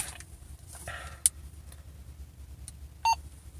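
A quiet click comes first, then near the end a Motorola two-way radio, being switched on, gives a single short, clear electronic beep over a low background hum.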